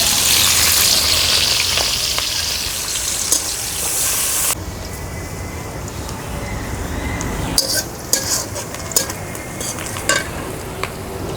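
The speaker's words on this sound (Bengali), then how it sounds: "বসায় দিলাম, তেল দিয়ে দিলাম, পেঁয়াজ আর কাঁচামরিচ" Onion and green chili frying in hot oil in a pan, loud steady sizzling with scraping stir strokes, close up; the hiss drops noticeably partway through, followed by intermittent clinks and stirring.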